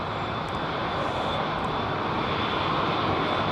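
An airliner roars off from London Heathrow Airport as a steady, broad engine rumble that holds at a constant loud level throughout, heard from a distance with no voices.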